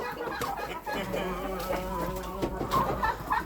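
Hens clucking in a Ukrainian farmyard poultry pen, a turkey among them, with overlapping soft clucks and calls close by, a faint voice briefly present beneath the birds.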